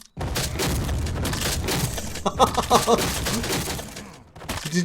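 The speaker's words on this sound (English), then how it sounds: "Those are some big cannons. That's a lot of cannons." Rapid volleys of booming cannon fire from a video game, dense overlapping blasts rolling on for several seconds with a few sharper impacts mid-way.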